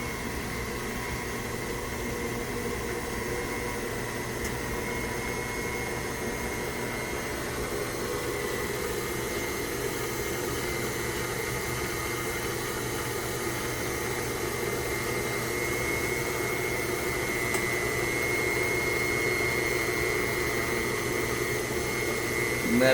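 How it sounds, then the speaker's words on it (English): Pasta machine extruding fresh spaghetti, a steady mechanical drone with a constant whine that holds evenly throughout and grows slightly louder toward the end. "it's important to be really gentle when you're pulling it out of the machine"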